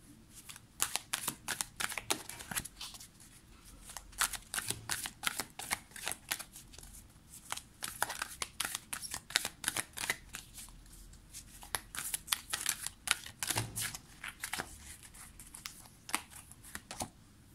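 Oracle cards shuffled by hand for a tarot-style reading, a steady run of quick papery riffles and flicks, close and fairly quiet, with no voice over them.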